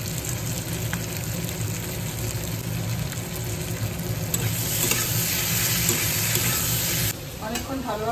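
Potato pieces fry in a hot pan with a loud, continuous sizzle and crackle, close and steady, with a brief scraping stir near the end and no talking.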